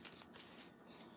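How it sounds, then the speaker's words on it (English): A brief, close rustle of cards being shuffled, a quick papery riffle lasting about a second, quiet and alone. "Shuffle it back up."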